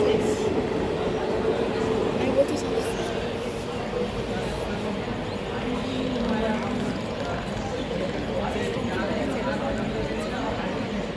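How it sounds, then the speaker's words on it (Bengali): A train ride near Durgapur station, heard from inside the carriage as a steady, loud rumble with rail noise, mixed with voices throughout. "আমরা এখন ট্রেনের মধ্যে আছি"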